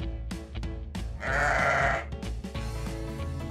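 One long, wavering sheep bleat sounds loud and near over a continuous background bed, with shorter sounds before and after it.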